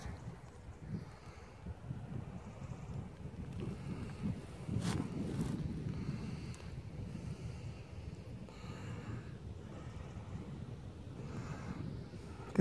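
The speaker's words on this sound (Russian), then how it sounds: "Сильный ветер." Strong wind buffets the microphone in uneven gusts, a rough low rumble swelling and easing, with no voices.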